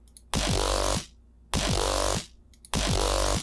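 Growl bass synth for a G riddim beat, routed through its bass bus effects chain, plays three loud, sustained notes of about 0.7 seconds each with short pauses between, a thick buzzing tone with nothing else heard.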